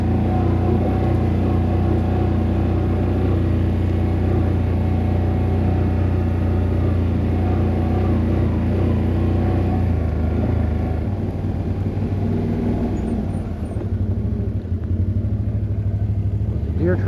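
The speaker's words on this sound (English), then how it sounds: "For now, riding quads." A loud, steady engine drone with low rumble from a Gen 3 XMR quad ATV running continuously close by, easing slightly near the end.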